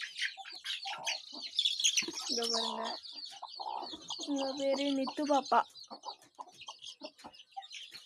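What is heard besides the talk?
chickens clucking in coop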